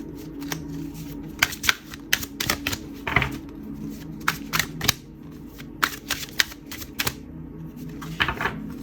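A deck of tarot cards is shuffled repeatedly, with sharp riffling flicks and slaps arriving in quick irregular bursts, close up.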